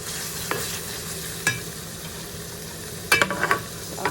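Chicken liver being stirred and sautéed in a pan for pancit canton negra, with a steady sizzle and a few sharp utensil scrapes and clinks against the pan.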